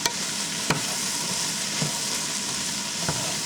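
Low-carb Nicaraguan-style chop suey with shrimp, carrots and other vegetables fries in a full pan, a loud steady sizzle with a few soft stirring knocks, close and with no speech.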